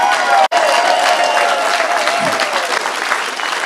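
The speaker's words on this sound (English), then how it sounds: "Give yourself an applause and a hand." Supporters at an election night results event applauding and cheering, a loud crowd wash of clapping with a brief cutout near the start and voices mixed in.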